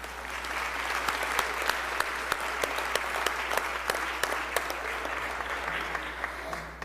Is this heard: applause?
yes